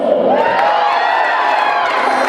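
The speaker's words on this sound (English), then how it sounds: "Make some noise for South." Students at a school pep rally roar, cheer and whoop for a contestant called South, a loud, sustained crowd noise in an echoing gym, steady throughout.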